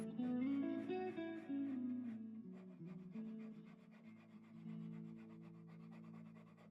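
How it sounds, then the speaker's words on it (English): A rasp roughly shaping an epoxy carp lure body, heard as quiet repeated scraping strokes over a faint tonal background. "I started to roughly shape the carp with a rasp"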